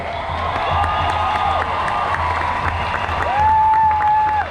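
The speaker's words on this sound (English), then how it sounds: "Big round of applause." A crowd cheers and whoops loudly with applause mixed in, high shouts rising over a steady roar of voices.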